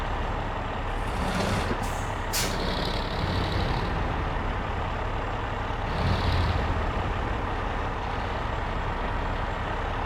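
Truck engine rumble in the SnowRunner video game, with IX3880 and Tuz 420 Tatarin JBE trucks in play: a loud steady drone with sharp hissing air-brake releases near the start and a softer one later.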